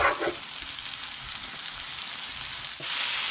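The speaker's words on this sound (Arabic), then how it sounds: "بنحمي زيت الزيتون وبنحط عليه البصل" Onion sizzles in hot olive oil in a pan, a continuous close hissing fry with a few soft clicks, swelling briefly louder toward the end.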